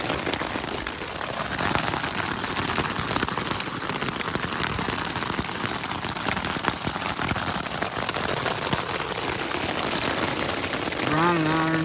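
Hail hammers steadily on a tent roof during a hailstorm on an elk hunt, a dense, loud, continuous patter with no breaks, close overhead throughout.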